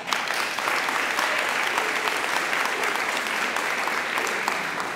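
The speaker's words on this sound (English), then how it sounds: "Let's give her a round of applause for that." Steady, dense applause from an audience at a congresswoman's election reform town hall fills the whole stretch, sustained and even without breaks or speech.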